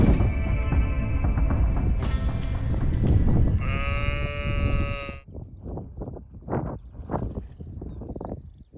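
Several loud, close sheep bleats, long wavering calls at first, then a run of shorter bleats with some bumping and movement noise between them.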